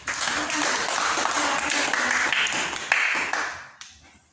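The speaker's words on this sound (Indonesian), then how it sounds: "tepuk tangan untuk kelompoknya Eva" A class gives a round of clapping for a student group after it presents its observations on plant parts, a brisk, fairly close burst of many hands that tapers off and fades out at the end.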